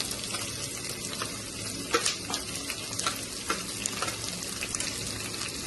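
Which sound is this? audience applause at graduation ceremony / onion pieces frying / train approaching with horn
onion pieces frying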